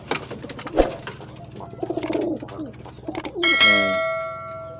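Pigeons in a loft during pairing of a cock with a hen, with clustered cooing calls and a clang partway through, then a bright ringing metallic tone rising near the end; no talking.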